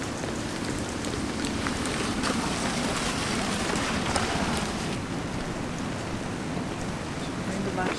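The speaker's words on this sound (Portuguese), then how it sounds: "Chovendo bastante," Heavy rain pours down outdoors by the water during a shrimp-trap fishing trip, making a constant loud roar of drops that never lets up, with a voice faintly mixed in.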